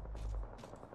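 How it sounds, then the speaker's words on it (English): Gunfire from the battle royale game Apex Legends rumbles for about a second as a dense, low, continuous burst, with a faint voice under it. "Shooting."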